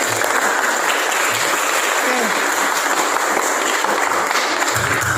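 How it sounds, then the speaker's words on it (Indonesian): Students clapping in a classroom, a dense steady burst of applause filling the room with a short spoken word near the start. "Beri tepuk tangan dulu."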